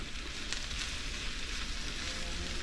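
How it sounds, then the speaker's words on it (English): Onions caramelizing on a flat griddle, a continuous dense sizzle at steady volume throughout, close and alone with no voices. "How many here want to watch 45 minutes of caramelizing onions?"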